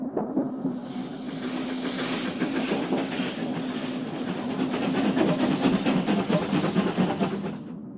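A train rolling downhill on the descent toward Liège in Belgium, with a steady rumble, rhythmic clickety-clack of wheels over rail joints and a sustained low hum, fairly loud and continuous without voices.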